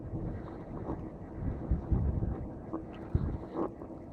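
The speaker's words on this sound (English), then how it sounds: "This is when we're going into the wind." Strong headwind buffeting the microphone while riding an eBike along a country road, a loud, steady, rumbling roar with gusty swells and no talking.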